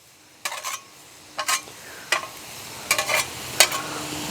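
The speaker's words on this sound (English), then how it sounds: "we're gonna slide these onions on over to the side" Onions slid and sizzling on a Blackstone griddle in a cooking session: short scraping, sizzling bursts of a spatula pushing food, about five separate strokes over steady quiet frying, no talk.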